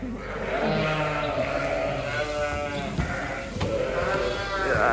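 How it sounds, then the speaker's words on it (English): Sheep bleat in overlapping wavering cries, several animals calling close by against a constant background murmur. "let's go and feed the sheep this morning"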